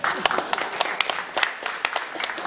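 Scattered, uneven clapping from a lecture audience during a talk on happy family ministry, sharp individual claps at close range rather than a full ovation, with a voice audible between them.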